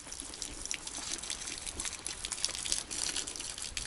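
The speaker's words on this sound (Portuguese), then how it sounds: "Derrama lá a água no chão." Water is poured out onto the ground in Braga, Portugal, a continuous hissing splash and trickle that stays fairly steady and close, with no voices.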